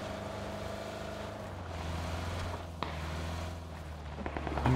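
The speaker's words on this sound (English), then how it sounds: "I'm driving a field tractor." A field tractor drives in the video game PUBG, its engine a steady low droning hum that rises slightly in pitch toward the end, with a brief sharp knock partway through.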